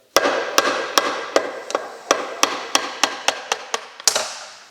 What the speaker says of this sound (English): It has this metallic lip that you can put the flat screwdriver and hit